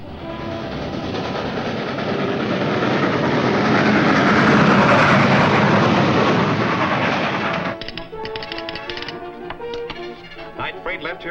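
Night freight train rolling along rails, a loud dense rumble that swells then drops into sharp rhythmic clickety-clack of wheels over rail joints.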